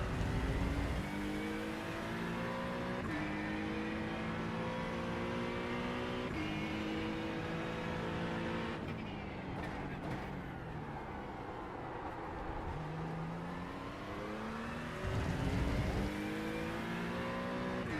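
A GT3 race car in the iRacing sim roars steadily as its engine climbs through the revs and shifts up through the gears, then drops and climbs again, loud and continuous with no talk.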